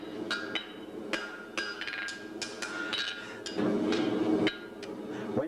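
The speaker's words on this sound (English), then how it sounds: "put the reference point on the face of the anvil, a little tap, and a tap there" Hammer taps on a steel anvil face while finishing shoe heels in a shoemaking workshop, several sharp ringing strikes spaced irregularly over a low background hum.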